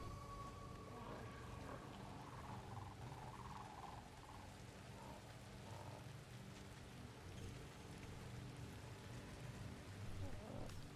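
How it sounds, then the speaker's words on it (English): Steady rain patters continuously at a low level over a soft rumbling background, with no one talking, in the video game Ancestors: The Humankind Odyssey. "cue up the rain"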